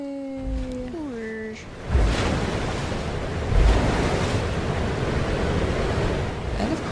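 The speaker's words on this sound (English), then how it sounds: "the floodgates are open, literally, and the lake will drain" In the video game Dragon Age Inquisition, water rushes out through opened floodgates as a lake drains. A brief falling tonal sound plays first, then a loud, continuous broadband roar of surging water swells and holds.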